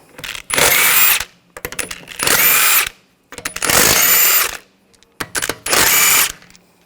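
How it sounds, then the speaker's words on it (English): A power tool spins lug bolts off the rear wheel of a 2007-2013 BMW X5 using a 17mm socket, four loud close bursts of whirring separated by short pauses and small rattles. "use a 17mm socket, take the lug bolts out"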